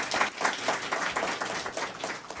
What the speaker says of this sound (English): So let's give Chief Policia a round of applause.